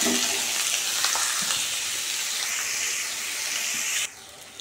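Potatoes for a potato curry frying in oil on a gas stove, a continuous loud sizzle and hiss that holds steady for about four seconds, then drops abruptly to quieter frying.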